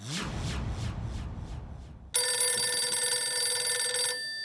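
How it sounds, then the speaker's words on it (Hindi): A telephone rings loudly and continuously, a bright trilling bell that starts abruptly after a few seconds of low clatter and then cuts off. "ये भिड़े बार बार क्यों फोन कर रहा है?"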